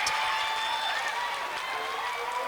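Audience applause for a poet at a youth poetry slam, a dense, steady wash of clapping and cheering that holds at full strength for its whole length, with no voices rising above it.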